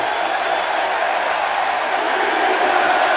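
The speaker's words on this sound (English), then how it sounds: "Just listen in to this crowd." A wrestling event crowd roars in a steady, dense wall of cheering and shouting that holds at an even level throughout, with no single voice standing out.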